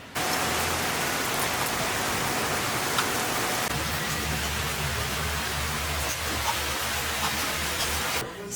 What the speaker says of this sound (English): So, it's raining and I am so happy.